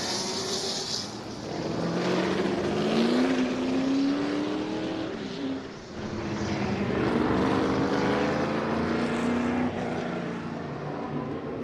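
A turbine-powered IndyCar race car whooshes past on the M1 Concourse speed ring at the American Speed Festival, its rising and falling engine tone sweeping by loud and close with no talk over it.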